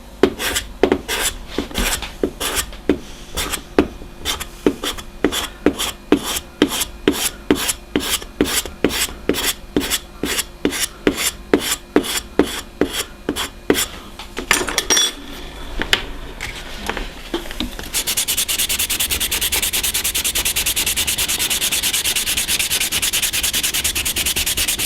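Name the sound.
scraper working a wooden ship model part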